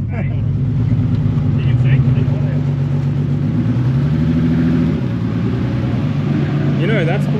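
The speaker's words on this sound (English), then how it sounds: "Sounds like it's on 5 cylinders" A 2JZ-powered Toyota Cressida street car with a big turbo runs rough while misfiring on five cylinders, its uneven engine drone loud and steady throughout, with voices talking over it.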